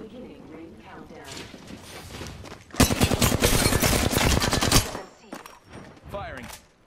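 Sustained automatic gunfire bursts loud and close for about two seconds in a frantic Apex Legends firefight, with scattered shots and battle noise before and after, and voice chatter in the mix.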